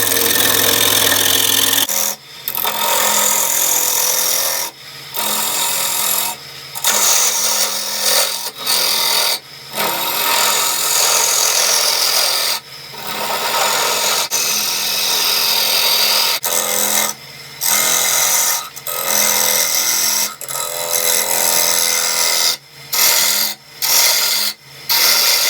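A woodturning gouge cuts a jack pine burl spinning on a lathe, giving a loud, continuous rasping scrape broken by repeated short pauses between passes, with no talk.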